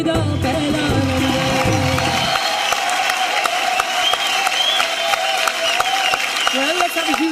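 A large awards-show audience bursts into loud, sustained applause just after a singing performance, the clapping crowding out the music's fading final notes and carrying on steadily with some crowd noise mixed in.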